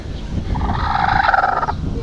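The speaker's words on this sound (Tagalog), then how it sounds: "Pinapansin lang ako yung mga manok dito." Chickens in a backyard, including a brooding hen with chicks nearby, give a single drawn-out clucking call that rises and holds for about a second over low rumbling background noise.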